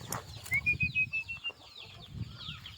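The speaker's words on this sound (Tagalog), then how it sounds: "Ito naman yung mga manok ni Nonoy Turoy." Chickens cluck and chatter in a short burst, with a thin high squawk in the middle, nearby and without talk.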